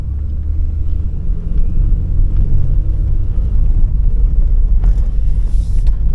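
A 1997 Chevrolet Camaro with a 3800 engine and T-tops, 130,000 miles, being driven: a loud, steady low engine rumble with wind buffeting the microphone and a brief burst of hiss near the end.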